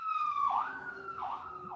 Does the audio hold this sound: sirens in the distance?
yes